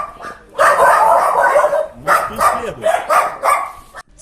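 Stray dogs in a street in Chernivtsi bark loudly and close by. The barks come in repeated, overlapping bursts with short gaps between them.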